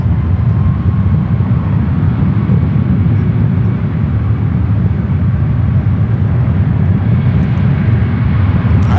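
United Airlines jet taking off from runway 1 left at San Francisco International Airport, a loud continuous low roar of engines that stays steady and close throughout, with no speech.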